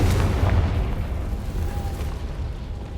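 A Confringo blasting spell explodes in the Hogwarts Legacy video game, giving a deep rumbling boom that fades off over a few seconds, loud and alone.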